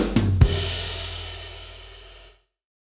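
Isolated drum fill from a drum machine pedal: a tom hit, a little snare work, then a closing tom hit, with two sharp strikes near the start and a long ringing decay afterward, heard alone.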